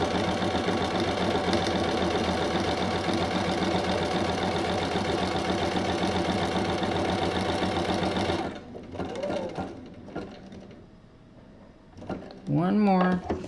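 A sewing machine stitches fabric for a hexagon quilt, its fast, steady mechanical chatter running continuously for about eight seconds before it stops. A few soft handling sounds and a voice follow.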